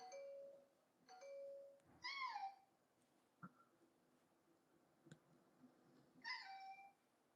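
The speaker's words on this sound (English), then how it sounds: "How you gonna have a cat that literally know how to ring the bell?" A cat meows several times while a doorbell ding-dongs a few times between the meows. Both sounds are close and clear over a quiet room background.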